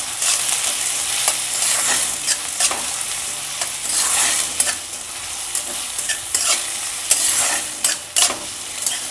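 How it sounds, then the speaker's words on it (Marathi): Sliced onion is sautéed over a low flame for a dhaba-style sev curry, with a continuous close sizzle and a run of loud spatula scrapes and stirring strokes against the pan, and no voices. "छानपैकी कांदा या ठिकाणी आपल्याला परतवून घ्यायचा आहे"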